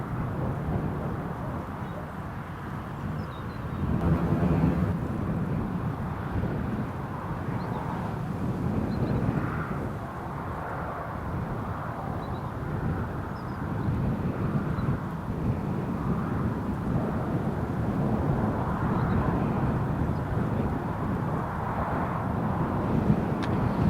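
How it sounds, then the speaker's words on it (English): KLM airliner turning onto its landing approach at Newcastle International Airport in a crosswind, a distant low engine drone blended with gusty wind noise, rising slightly partway through. "KLM is just turning in on the approach."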